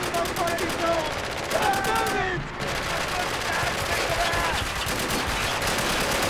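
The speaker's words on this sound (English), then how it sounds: "On my machine gun, I will equip a silencer." Silenced machine gun fire in the Spec Ops: The Line video game, a rapid stream of muffled, evenly spaced shots running throughout, with voices talking over the gunfire.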